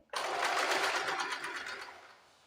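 A sewing machine runs in one quick burst of close, rapid stitching along a folded strip of fabric, starting abruptly and trailing off as it slows.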